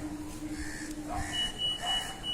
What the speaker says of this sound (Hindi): मशीन 3 बार अलार्म का संकेत देगी और उसके बाद वो पूरी तरह नीचे आएगी।